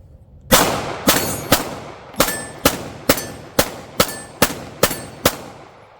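A Bear Creek Arsenal Grizzly 9mm pistol fires 115-grain JHP rounds: about eleven sharp, loud, close shots in quick, fairly even succession, with no talking.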